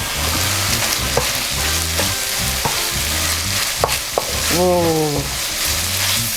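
Red chili frying in a wok for Kung Pao prawns, a steady close sizzle with stirring scrapes and clinks throughout, a brief exclamation and background music running underneath.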